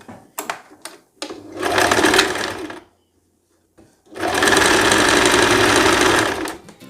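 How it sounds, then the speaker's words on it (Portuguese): A sewing machine topstitches a finishing seam on a simple dress, running in two steady bursts of loud, close whirring stitches, the second longer, with a brief silent pause and a few short clicks before. "vai fazer um pesponto aqui agora para fazer o"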